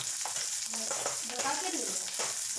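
Ingredients for sambar fry in a hot pan with a loud, continuous sizzle, while a spatula stirs and scrapes through them in short strokes.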